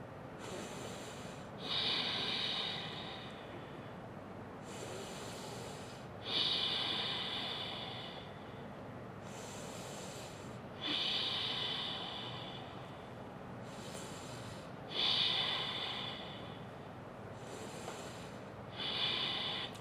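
A person breathing steadily while holding a yoga pose, slow audible exhales in a regular rhythm about every four seconds, close and breathy with soft hiss, no talking.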